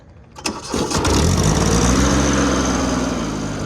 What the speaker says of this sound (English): we'll fire it up to see if there's any difference